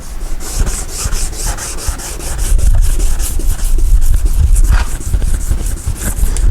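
Close, loud rhythmic scrubbing of a wet sanding pad rubbed back and forth in one direction across a car headlight lens, fast steady strokes continuing throughout without speech.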